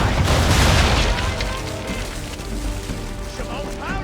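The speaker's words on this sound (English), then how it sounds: "Now, aim all guns at her bow and do as much damage as possible." Broadside from a ship's cannons in Assassin's Creed III, a dense, loud volley of booms and crashes at the opening that fades into rumbling, splintering aftermath.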